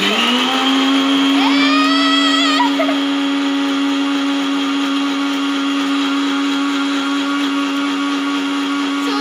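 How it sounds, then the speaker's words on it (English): A mixer grinder blending pomegranate whirs loudly with a high, buzzing whine that climbs briefly early on, then settles into a steady drone. "So guys, now in the mixer grinder."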